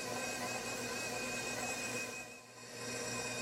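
An electric mixer creams peanut butter cookie dough with a steady whirring motor hum, fairly quiet and close, dipping briefly near the end. No one speaks.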